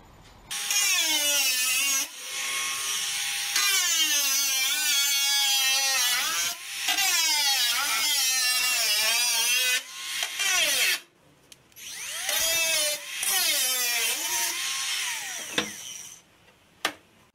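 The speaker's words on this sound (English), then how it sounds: "about to start cutting down this side now and around the C-pillar." A power tool cuts into the sheet metal of a car body's C-pillar in bursts of shrill, wavering whine, several long passes separated by short pauses, close and loud.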